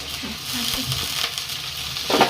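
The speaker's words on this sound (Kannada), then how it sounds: "ಅದನ್ನ ಎಲ್ಲ ಫ್ರೈ ಮಾಡ್ಕೊಂಡ್ಬಿಡ್ತೇನೆ" Onion, garlic and tomato fry in hot oil, a close, continuous sizzle with light stirring scrapes and a louder crackle burst at the end.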